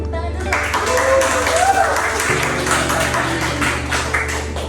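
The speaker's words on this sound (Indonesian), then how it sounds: "Ya teman-teman, tepuk tangan dulu" Group applause from classmates after a presentation, steady close clapping across the whole span with voices talking underneath.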